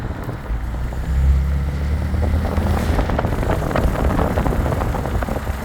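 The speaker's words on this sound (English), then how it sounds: "I think that's wastegate rattle." A BMW 335i with an N54 engine, relocated inlets and 3-inch downpipes shows wastegate rattle on a test drive. A low engine drone and wind noise run throughout, and a rapid rattling texture builds in the second half.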